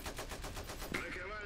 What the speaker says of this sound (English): Our machine gunner is going ham.